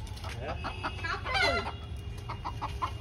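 A chicken clucks in a series of short, close calls over a low background rumble, with a faint voice in the mix.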